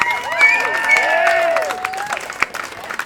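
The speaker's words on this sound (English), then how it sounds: "Round of applause for Rob and Cindy." A live-show audience gives a round of applause, a loud spread of clapping mixed with cheers and whoops that trails off after a few seconds.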